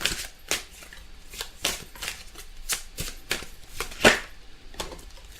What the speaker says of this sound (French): Les cartes se mélangent très bien.